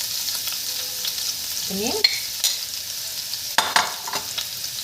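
Half a kilo of minced meat frying in a hot pan, a steady close sizzle with stirring scrapes and a few sharp knocks of a utensil, and a brief spoken word partway through.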